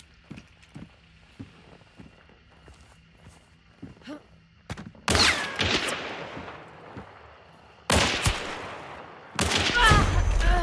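Officer carbine gunfire in a video game bounty hunt: after a stretch of light footsteps and small clicks, three loud, sharp shot bursts ring out close by, each trailing off into a reverberant echo.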